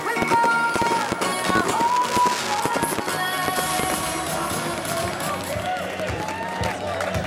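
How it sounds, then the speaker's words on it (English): Wedding fireworks crackle and pop in rapid irregular bursts, with whistling rockets rising among them and a crowd audible underneath. "And maybe even some fireworks."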